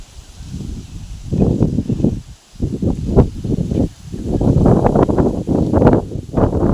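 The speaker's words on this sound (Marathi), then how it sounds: "बघा हे वारा अशा प्रकारे सुटलेले" Gusts of wind buffet and rumble in surging waves, loud and close, with brief lulls between the blasts.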